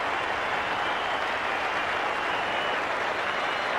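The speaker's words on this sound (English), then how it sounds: "Applause from his teammates in the Australian dressing room and a standing ovation from certain areas of the crowd" Steady applause and cheering from a cricket crowd and the Australian dressing room at Adelaide, greeting Justin Langer's fifty in a 1993 Test against the West Indies, a continuous even wash of clapping heard from a distance with no voices on top.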